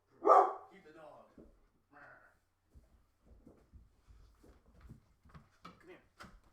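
A dog gives one loud, close bark, then a couple of softer yips. A person talks quietly, with scattered small knocks and movement after the bark.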